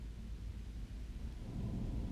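Rain falls steadily in Horizon Forbidden West, a dense low rumbling wash that holds an even level throughout with a slight swell toward the end, with no talk over it.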